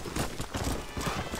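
Horse hooves clopping in Red Dead Redemption, a quick steady run of hoofbeats, close and fairly loud over a broad noisy background, with no talking.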